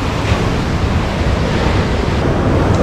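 Ocean waves batter a rocky Spanish shoreline where barnacles are gathered, a loud, steady wash of surf roaring close by with gusts of wind buffeting the microphone and no voices.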